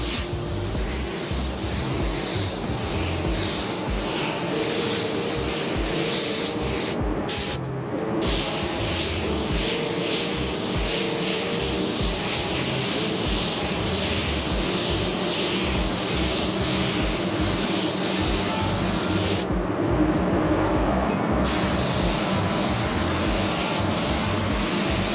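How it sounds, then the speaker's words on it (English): Spray gun laying down wet-on-wet base coat paint, a loud continuous close hiss with two brief breaks where the trigger is released, no talk. "that's two wet on wet coats of base coat laid down"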